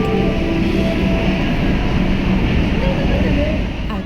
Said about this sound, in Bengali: আর এই দেখো মেট্রো